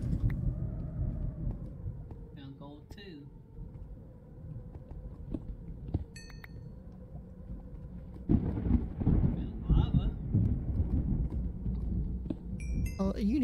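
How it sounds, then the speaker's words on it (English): Thunder in Minecraft rumbles low and steady through the clip, swelling louder near the end, with scattered game clicks and effects on top. "You can hear the thunder, you know what I mean?"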